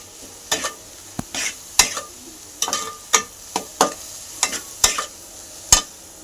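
Masala spices (kitchen king, Everest masala and turmeric) frying in oil for pav bhaji, with a soft sizzle under a run of sharp, irregular scrapes and taps from a spoon stirring in the pan, close and fairly loud.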